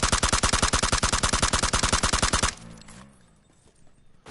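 A rapid automatic burst empties a full magazine in PUBG, about twenty-five evenly spaced, loud, close shots in a steady rhythm, then cutting off abruptly to quiet ambient noise.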